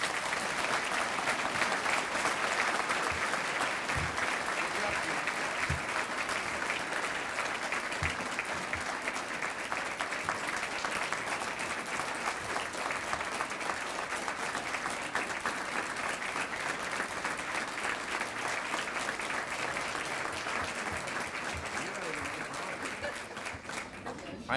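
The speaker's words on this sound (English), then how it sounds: "The applause may not be that great." A live audience gives sustained, even applause that runs for over twenty seconds, dense and steady without breaks, fading slightly toward the end, with a few chuckles and voices mixed in.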